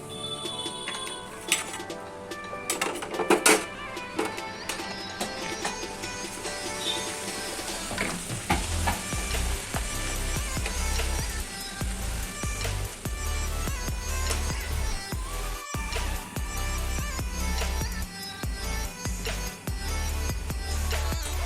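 Puris fry in hot oil over a high flame, giving a steady crackling sizzle with bursts of bubbling and occasional clinks of a utensil in the pan. No one speaks.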